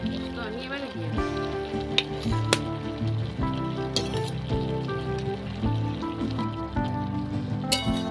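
Poppy seed paste frying with bottle gourd greens in a pan, a steady soft sizzle with light stirring clinks and scrapes throughout.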